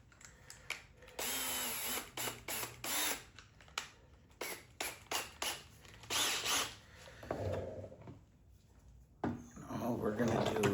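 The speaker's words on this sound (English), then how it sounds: "I just have a step bit here." Power drill fitted with a step bit enlarging holes toward a cross brace during an on-board air compressor install, in repeated close bursts of whirring and grinding with pauses, while a person talks between cuts.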